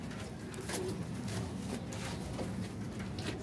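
Pigeons coo softly amid a steady, noisy background, with faint rustling throughout.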